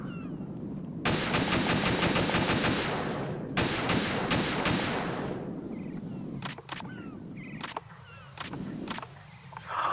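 Gunfire in Metal Gear Solid 2 starts with a long rapid automatic burst, then a second shorter volley, followed by several sharp isolated shots spaced apart, loud and crisp against a quiet game background.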